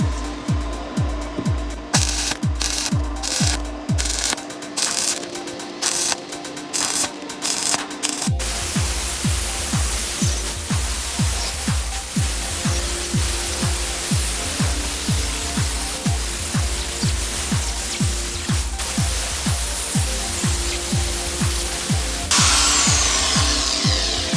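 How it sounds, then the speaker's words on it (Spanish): Steering wheel parts for fitting a Lancer Evo wheel into an Eclipse are welded spot by spot over several passes, giving a sustained close crackling hiss that starts and stops in long bursts over a steady pulsing background. "Seguimos soldando. Puntito a puntito."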